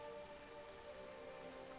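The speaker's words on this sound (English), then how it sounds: "But the sound of the rain is so calming." Rain falls steadily on a surface, a soft continuous patter with no voices, heard briefly and faintly.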